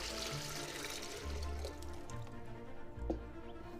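Cold water pours steadily into a rhubarb drink mixture of dissolved sugar syrup, a soft continuous splashing and trickling heard close by and fairly quiet.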